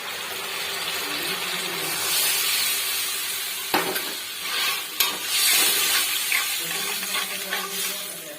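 Cornflour slurry poured into chili chicken in a pan sets off a steady close sizzle and bubbling, with a sharp utensil clack partway through and a few smaller knocks after. No one speaks.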